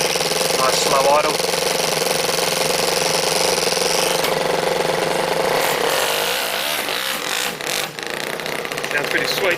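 Slow, steady idle from a two-cylinder four-stroke engine in an RC car with a custom exhaust, a loud continuous throbbing chatter close by that eases slightly in the second half with brief dips.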